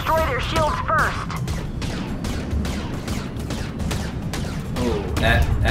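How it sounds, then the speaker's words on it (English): Torpedo impacts and weapon fire crackle through a large Starway Fleet space battle, a rapid run of sharp bursts and booms under a synthetic chirping, with a voice talking partway through. "that torpedo connected"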